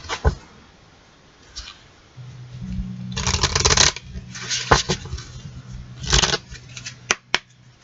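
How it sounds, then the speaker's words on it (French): Oracle cards are shuffled and drawn by hand: soft riffling bursts and crisp flicks of card stock, close and intermittent, with quiet pauses between and a low hum during the middle stretch. "Alors, on va tirer une petite carte."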